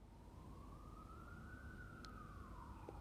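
Outside, a distant emergency vehicle siren wails in one slow rising and falling sweep, faint under steady background hiss with no talking.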